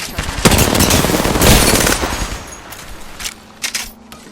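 Rapid automatic gunfire bursts in the Apex Legends video game on PS5, loud and dense for the first two seconds, then thinning into scattered separate shots and clatter.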